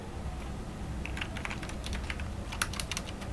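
Java code is typed in BlueJ on a computer keyboard: quiet, irregular keystrokes that cluster into quicker bursts toward the end, with no voice over them.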